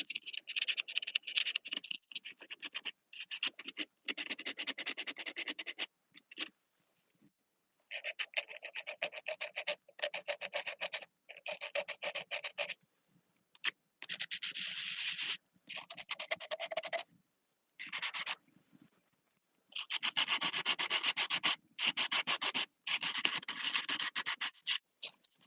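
Ceramic pots being sanded by hand, a dry rasping scrape in quick bursts of strokes with short pauses between, close and fairly quiet, with no talking.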